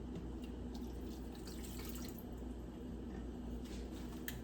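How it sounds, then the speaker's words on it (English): Water is poured into a pot of Spanish rice, a quiet, steady splashing and trickling close by against a low background hum, with no talking. "pour the rest of your water in"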